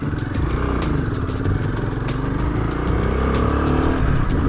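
A motorcycle ridden in the Himalayas, its engine droning steadily and loud with rough low rumble, clattering and repeated short ticks over a continuous road noise.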